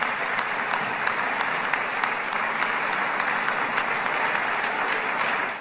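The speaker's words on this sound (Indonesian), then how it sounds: "Sorak-sorai menggema di ruangan saat Donald Trump menerima tepuk tangan meriah." Dense, sustained applause fills the Israeli Knesset chamber for Donald Trump, a steady roar of many hands clapping at once without a break.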